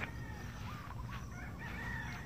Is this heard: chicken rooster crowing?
yes